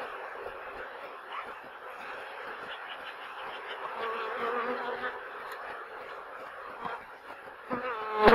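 Honeybees buzz steadily at a hive while a weak colony is being fed undrawn wax comb in spring, a dense, continuous hum close by that swells slightly toward the end.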